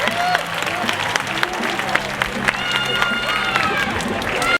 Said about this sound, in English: how about a big round of applause for Akasha, folks?